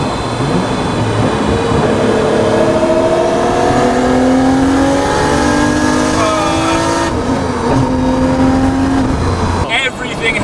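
A Nissan Skyline R32 GTS-T with a 2.3-litre Tomei stroker engine making 400 bhp, heard from inside the car as it drives. The engine drones steadily and loudly, and its pitch climbs repeatedly as it revs through the gears.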